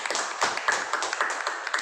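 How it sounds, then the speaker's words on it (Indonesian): Students in an eighth-grade classroom clap their hands in a quick, fairly rhythmic burst. The short, crisp claps come at a brisk, even pace and are heard close by. "berikan tepuk tangan"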